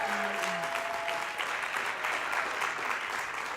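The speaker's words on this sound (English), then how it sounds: "Round of applause." A short burst of audience applause at a conference talk, honoring a winner who stands up; dense steady clapping from a room of people for a few seconds.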